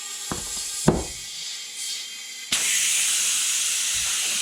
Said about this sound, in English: we're going to take our air chuck with the valve stem still out. We're going to set the beads